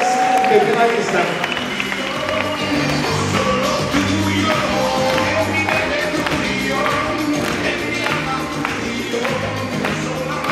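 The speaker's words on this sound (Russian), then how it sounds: "Ваши аплодисменты финалистам." Audience applause for the finalist couples at a professional ballroom dance final, a steady dense clapping that fills the hall, with music and a voice in the background.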